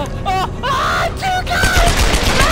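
Video game gunfire from Tomb Raider, a dense rapid burst running through the whole moment, loud and close under excited talking.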